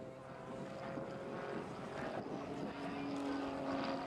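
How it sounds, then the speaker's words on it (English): RAF Grob Tutor propeller aircraft performing an aerobatic loop at an air festival display, a steady droning engine and propeller hum heard from a distance that swells slightly as the plane pitches around. "As he pitches up, Bob aims to pitch the aircraft around an imaginary circle in the sky."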